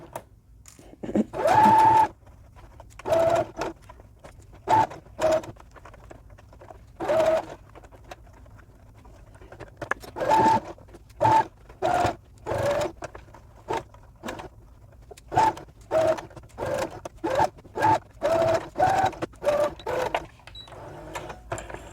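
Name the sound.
sewing machine stitching a doll backpack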